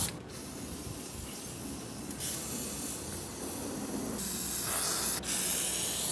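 WD-40 sprays from a can onto a Volkswagen Type 4 2.0 engine running outside a Porsche 914, a close, steady hiss in several bursts broken by short pauses.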